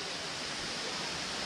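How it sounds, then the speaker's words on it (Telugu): Steady, dense roar of Tirathgarh waterfall in Chhattisgarh, a broadband rushing wash of falling water that holds even and loud throughout with no voices. "ఇక్కడ ఈ వాటర్ది నాయిస్ ఎక్కువ ఉంది"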